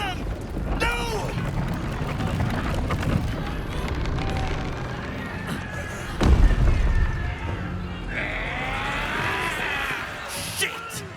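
A booming cannon blast erupts midway through a noisy battle at a gate in the video game Baldur's Gate 3, with shouting voices and rumbling effects around it.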